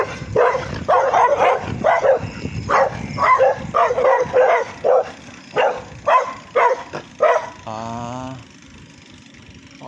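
Several dogs bark repeatedly in an irregular series of sharp, loud barks, nearby, followed by a brief whine and a low engine hum.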